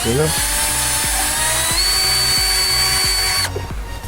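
Power drill spinning a polishing pad over a yellowed, scratched car headlight, a steady high whine with a pulsing rhythm as the pad moves in wide circles, loud and close, stopping abruptly near the end.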